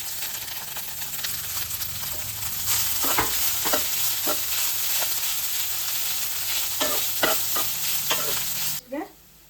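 Cooked rice is stirred into a hot tempering in a pan, with a steady sizzle and frying hiss under repeated scraping strokes of the spoon, close up and fairly loud.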